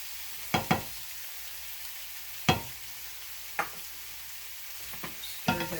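Sweet Baby Ray's barbecue sauce sizzles steadily in a hot pan, broken by several sharp scrapes and knocks of a spoon stirring it.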